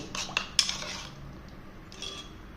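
A spoon works a paste around a bowl, clinking and scraping against the sides in short bursts, close and fairly quiet.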